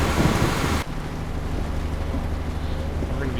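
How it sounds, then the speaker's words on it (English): Rain falls steadily in Euro Truck Simulator 2 as a truck drives along, heard as a constant broad hiss with a brief louder wash at the start, and no speech over it. "We sure do get a whole lot of rain."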